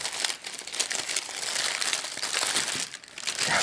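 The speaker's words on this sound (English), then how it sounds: "Let me just unwrap one of these real quick." A wrapped mini Burger King slider is unwrapped close up, with continuous crinkly paper rustling and crumpling throughout and a few brief softer pauses.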